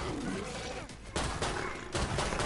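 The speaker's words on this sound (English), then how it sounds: "I'm missing every bullet I shoot" Rapid gunfire in the zombie shooter Killing Floor 2, dense overlapping shots and chaotic combat noise in a short, loud flurry with brief dips between volleys.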